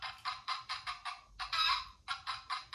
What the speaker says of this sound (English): a big fat hen